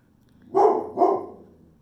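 A pet dog named Annie barks twice in quick succession at the front door, a close, loud pair of woofs followed by a fading tail and quiet.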